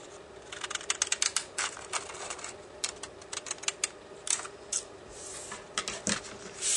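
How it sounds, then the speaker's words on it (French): Pinking scissors snip through paper to cut a decorative border for a baptism card, a close, quiet run of crisp clustered cuts in irregular bursts with small pauses between them. "Je vais faire donc la petite bordure au ciseau cranteur qui va venir ici derrière le rabat."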